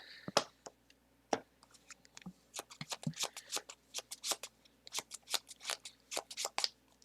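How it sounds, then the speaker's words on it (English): A hand of playing cards being shuffled and spread during a tabletop card game, a series of crisp riffling bursts and clicks, close and quiet, with no talk. "I'm going to give my hand a shuffle, spread them out"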